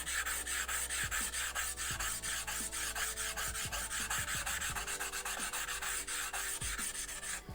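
A cleaning stone is rubbed back and forth across a 1000 grit whetstone, producing a steady rasping scrape in quick, regular strokes, close and fairly quiet, with no voices.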